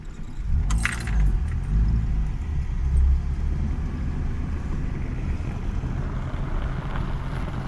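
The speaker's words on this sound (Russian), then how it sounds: "Вот мы сейчас едем по грейдеру" A car rolls along a graded dirt road, its steady engine and tyre rumble filling the clip, with a brief jangle of keys early on and light wind buffeting the microphone.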